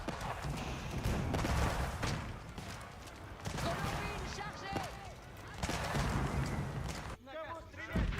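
Cannon shots and battle noise in an Age of Empires match, several sharp booming impacts amid clattering combat sounds, with a commentator talking over much of it.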